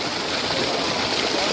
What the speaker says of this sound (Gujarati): આ બોરમાંથી પાણી આવે છે.